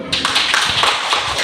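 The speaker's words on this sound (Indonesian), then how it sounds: "Tepuk tangan dulu." An audience at a group game gathering claps their hands for the winning team, a brief burst of rapid, overlapping claps, fairly close and steady.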